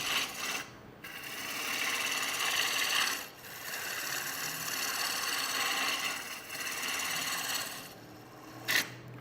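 Roughing gouge cutting a wooden vase blank on a lathe, a steady broadband rasping scrape that runs almost without a break, with brief gaps and a short sharp catch near the end.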